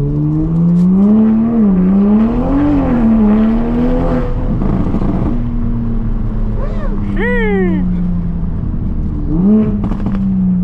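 A car with traction control switched fully off pulls hard under acceleration, its engine droning and rising in pitch with a sharp climbing rev near the end, loud and close amid cabin noise.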